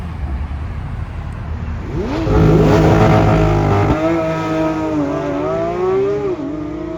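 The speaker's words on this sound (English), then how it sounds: "A bunch of cars are pulling in right now" Cars roll into a car meet at the Porsche Experience Center in Los Angeles, engines revving and accelerating close by, swelling to a loud rumble, then shifting into a wavering drone as another vehicle moves through.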